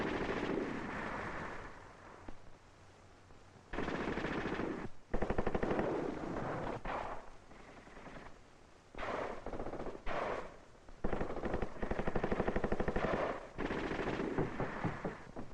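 Machine gun and tank fire during an infantry assault on houses: loud sustained bursts of automatic gunfire, broken by brief pauses, with heavy booming shots mixed in and no talk.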